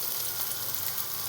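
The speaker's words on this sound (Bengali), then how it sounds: "পনিরগুলো আমি তেলের মধ্যে দিয়ে দিচ্ছি, তেলটা গরম হয়ে গেছে।" Paneer cubes frying in hot oil give a steady, even sizzle with soft crackle throughout, close and moderately quiet, with no talking.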